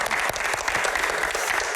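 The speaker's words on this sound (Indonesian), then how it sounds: "Tepuk tangan untuk Bang Akbar." Audience applause for Bang Akbar, Deputy Chair of the MPR, at a Q&A event: a dense, steady wash of many hands clapping at once, loud and continuous for the whole moment with no voice over it.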